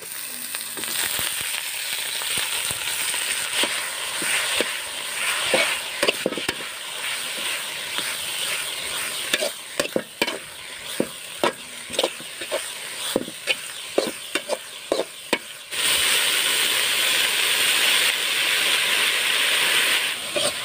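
Vandi keerai greens sautéing in hot oil in a pan, a steady close sizzle and hiss with scattered crackles and pops, the frying growing louder and more intense near the end; no talking.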